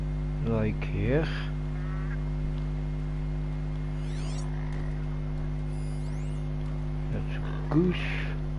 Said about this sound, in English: That's goose.